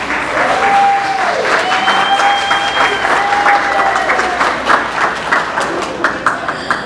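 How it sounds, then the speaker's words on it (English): Audience at a Brazil celebration event bursting into applause after a presentation, a dense, close burst of clapping that thins toward the end, with a voice speaking over it. "Oh, you can clap, you can clap."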